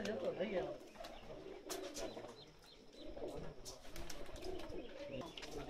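Racing pigeons coo softly in a loft, low and faint, beneath someone speaking and background bustle.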